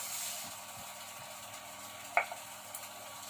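A wooden spoon stirs thick pasta sauce in a pan with soft, quiet scraping strokes over a faint sizzle, and one sharper knock near the end.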